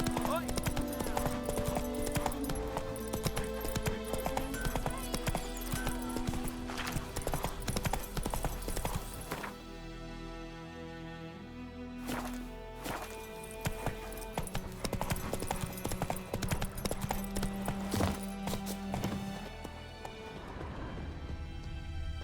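Horse hooves clip-clopping at a steady trot or gallop in The Witcher 3 open-world game, a continuous rhythmic patter under game music and occasional spoken dialogue.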